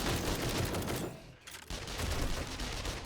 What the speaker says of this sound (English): these ladies do all the shooting for me